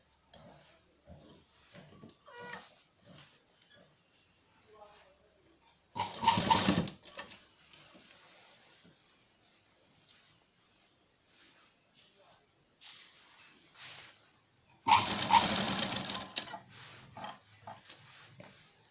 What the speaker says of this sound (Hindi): और हमने यहाँ से सिलाई लगाना स्टार्ट करना है